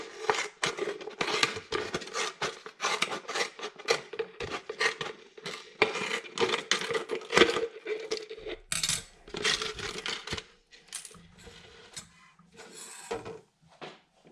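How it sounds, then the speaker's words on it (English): Scissors snip and trim the edge of a roughly cut plastic bottle, producing dense, rapid crackling clicks and plastic rattles close up, with a few brief pauses. "now get a pair of scissors and trim it nicely"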